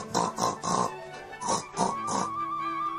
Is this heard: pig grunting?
yes